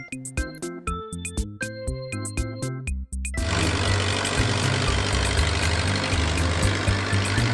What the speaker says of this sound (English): Forklift.